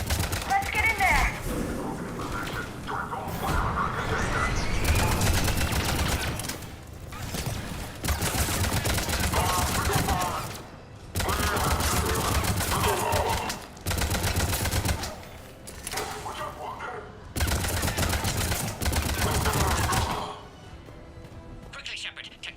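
Gunfire in the sci-fi shooter Mass Effect 3 at a besieged checkpoint, repeated loud bursts and volleys of rapid shots over a busy battle din, with voices talking in between.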